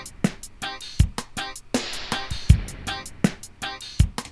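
Classic dub drum kit from Logic's Ultrabeat at a lowered tempo, with a deep kick, snappy snare and busy ticking hi-hats in a steady looping pattern, fairly quiet and without voices.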